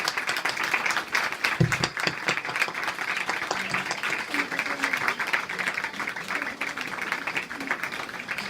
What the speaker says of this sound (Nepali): उहाँको लागि हामी ताली बजाएर हामी स्वागत गर्नेछौँ